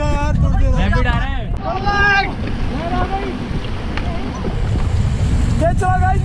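River rapids roar as a raft runs the Ganges at Rishikesh, a constant rush of water and wind buffeting the microphone beneath excited shouting voices.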